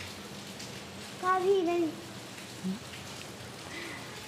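Steady rain falling on a day of all-day showers, a constant hiss of drops on surfaces that continues under a short stretch of nearby speech.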